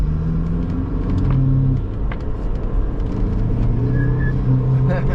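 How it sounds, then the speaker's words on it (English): A 1999 Saab 9-3 Viggen accelerating on a cold day, its engine a loud, steady rumble heard from inside the car, with a couple of faint, brief tire chirps near the end. "These tires love to chirp on this thing."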